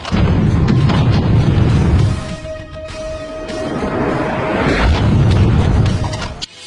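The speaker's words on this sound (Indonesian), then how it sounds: "Pasukan itu diledakkan, menderita banyak korban." Grenade blast in a war film, a heavy, loud boom with a rumbling roar that swells, eases and surges again before cutting off abruptly, with no speech over it.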